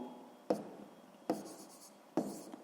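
Pen or pencil strokes on paper while writing out a sixth-grade math solution; three short, distinct scratching bursts spaced about a second apart, quiet and close, with no talking.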